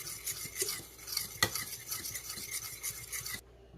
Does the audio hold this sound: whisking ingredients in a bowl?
yes